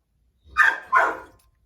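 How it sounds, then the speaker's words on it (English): A dog gives two close, loud barks in quick succession, the second slightly longer, with quiet before and after. "all right, better let the dog out"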